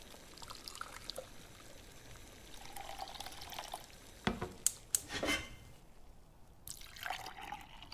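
Freshly boiled water is poured for a hot toddy, a brief liquid pour with a few sharp clinks and drips in a quiet room, no voices.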